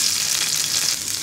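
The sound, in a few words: chopped garlic frying in hot soybean oil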